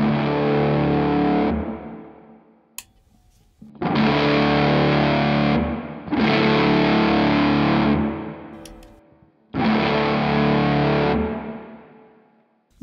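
A Walrus Audio Melee distortion and reverb pedal with its tone switch in the middle position. Four loud, saturated guitar chords are struck, each held for a couple of seconds and then cut off, leaving short gaps between them.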